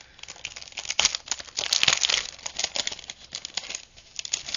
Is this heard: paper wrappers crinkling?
yes